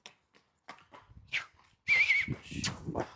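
Horse neighing in a short, loud whinny after a few soft thumps and shuffles, close by, with faint hoof and handling noises around it.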